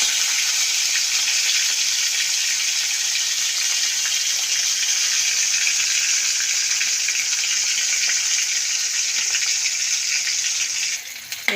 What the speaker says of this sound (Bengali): এই যে কড়া করে ভাজা হয়ে গেছে। এটাকে নামিয়ে নেব।